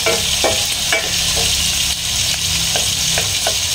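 A tuna head frying in a pan: loud, close, unbroken sizzle and crackle of hot oil with scattered sharper pops and spatter throughout, no voices over it.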